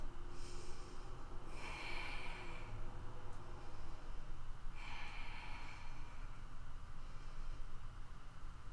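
Slow, deep breaths taken while holding a high plank in yoga, about three soft audible exhales, close and quiet with no talking.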